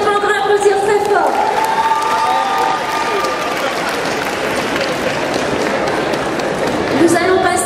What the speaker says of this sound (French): Allez, on peut encore applaudir très fort.